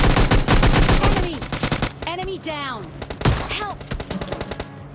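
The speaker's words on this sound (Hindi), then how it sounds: "ये एकेएम वाला एकेएम बजा देता है" AKM rifle fire in PUBG Mobile Lite, loud rapid automatic bursts in the first second and again around the third second, with smaller shots and game effects in between and fading bursts toward the end.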